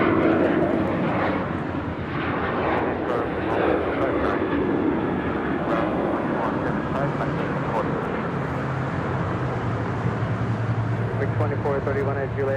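An airliner rolls for takeoff on runway 25 at LAX, a broad, loud engine roar that swells and shifts in pitch as it climbs away, with radio-style talk running over it throughout.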